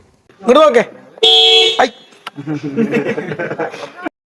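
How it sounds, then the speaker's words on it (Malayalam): A loud, steady Toyota Innova horn blast sounds for about half a second between bursts of nearby speech, with more talking continuing after it. "ഈ ഹോൺ അടിക്കാൻ തന്നെ അറിയുള്ളൂ"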